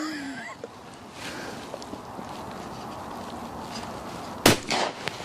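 A single sharp shotgun blast during an outdoor shooting lesson, loud and close, cracking out near the end over quiet open-air background with a brief ringing tail.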